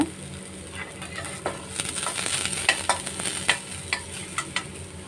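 Garlic fries over a low flame with a continuous soft sizzle, while a spoon stirs and taps against the pan in irregular clicks.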